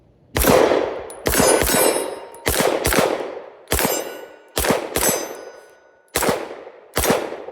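Pistol shots ring out at a shooting range, eight sharp loud reports at irregular intervals each followed by a metallic clang of steel targets being hit and a short ringing decay.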